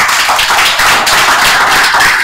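Loud, close clapping from an audience at a political party congress in Benin, a dense, fast patter of hands that holds steady throughout with no talk over it.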